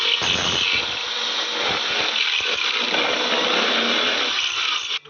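A power drill bores through a window glass pane, whining steadily and close, with a harsh, high grinding buzz for several seconds before it abruptly stops.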